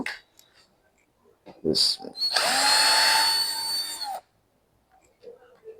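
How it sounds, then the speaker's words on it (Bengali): A power tool, likely a drill or impact driver, loosens the nuts on a 60V 150Ah BTCL battery pack, whirring steadily for about two seconds close by, with short bursts before and quiet afterward. "তো দেখতে পাচ্ছেন আমরা মেশিন দিয়ে নাটগুলো আলাদা করার চেষ্টা করছি।"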